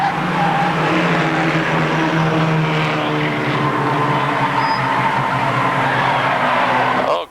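Late model race cars roar around the 3/4-mile Motordrome Speedway oval, a loud continuous engine drone with shifting pitches as several cars pass together, and tires squeal briefly near the end.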